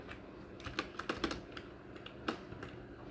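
Keys tapped on a computer keyboard while C++ code is entered, a quiet, irregular run of separate clicks, some in quick bursts and some spaced apart, with no talking.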